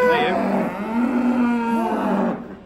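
Cattle on a farm give one long, loud, close moo that swells and then fades away, heard alone without talk.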